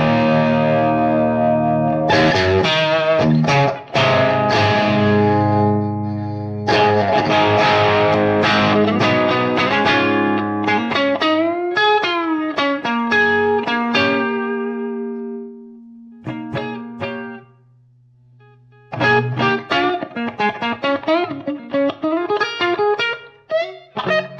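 An electric guitar plays through a Brit-Tone SLO Plus 100W amp with linear gain mod and extra overdrive, producing loud distorted chords and single-note runs with pauses, ringing sustain and sharp picked attacks.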